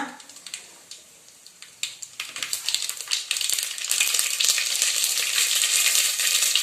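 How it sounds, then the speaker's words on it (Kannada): Mustard seeds tossed into hot oil crackle and sizzle, starting with scattered pops and swelling into a dense, continuous crackling fry that stays loud to the end, with no voices. "ಈಗ ಅದಕ್ಕೆ ಸ್ವಲ್ಪ ಸಾಸಿವೆ ಹಾಕೋಣ"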